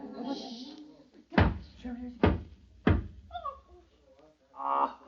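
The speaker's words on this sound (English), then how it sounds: "Oh, it's just somebody at the door." Three sharp knocks at a door in a 1942 Halloween radio drama, evenly spaced and loud, following a low murmur of voices; a brief bit of speech comes after.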